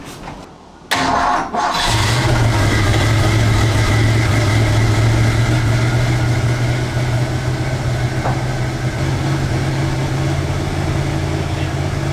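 A 1969 Ford Mustang engine cranks briefly, catches and settles into a loud, steady idle that runs alone and close by for the rest of the stretch.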